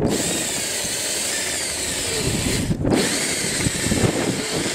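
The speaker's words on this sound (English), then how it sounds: "So then you have to get a drill and just go nice in the center." A power drill bores out rusted brake caliper bolts on a Citroen Saxo during a big-brake upgrade. Its steady, loud whirring runs almost unbroken, with one brief dip partway through.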